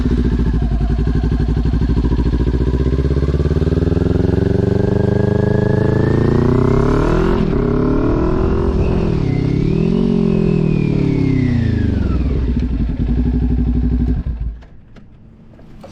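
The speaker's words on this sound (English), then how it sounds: "So I'm going to go ahead and demonstrate that now." A motorcycle engine revs up and drops in pitch through several downshifts with the clutch let out, loud and close, rising and falling before cutting off near the end; no one speaks.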